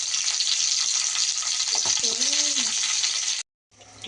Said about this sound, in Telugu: ఇట్లా తిప్పుకుంటూ కాల్చుకోవాలి